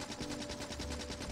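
Turrets firing at alien nests in the game Factorio, a quiet, rapid, even rattle of automatic gunfire that keeps going throughout the short stretch with no talking.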